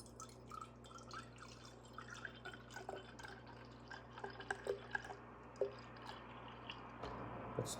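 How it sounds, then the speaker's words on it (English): Milk trickles slowly into a measuring container, a quiet stream with small drips and splashes that grow more distinct toward the end, over a soft room hum with no talk. "So I'm gonna grab the milk. And it's saying 240. So I'm just gonna pour it slowly."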